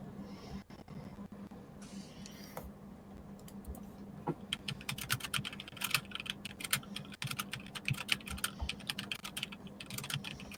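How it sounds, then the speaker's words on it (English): Rapid clicking of a computer keyboard, irregular bursts of keystrokes close by over a low background hum, no voices. "As you hear Devin typing instead of using words"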